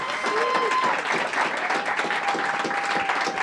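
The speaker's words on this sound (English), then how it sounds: "Let's give them one more big round of applause." Audience applause for the founders of twelve startups at an accelerator demo day, a steady, dense wash of clapping filling the room, with a faint tonal hum running underneath.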